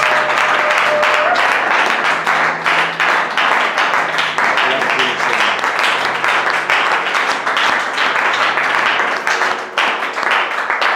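A church congregation applauds steadily and cheers throughout, dense rhythmic clapping filling the room with voices and faint music mixed in.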